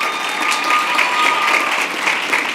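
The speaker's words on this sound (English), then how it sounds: "Please give a big round of applause to J.M. Hanks High School senior Daniel Mauricio Perez." Audience at a school district board of trustees meeting applauds a high school senior, a close, steady roar of many hands clapping throughout with a faint tonal hum underneath.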